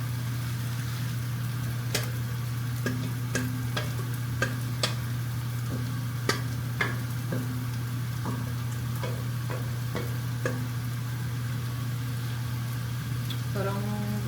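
Pork fries in a pan with a steady low sizzle under a constant hum, marked by sharp clinks and scrapes of spoons against the pan, with a voice speaking now and then.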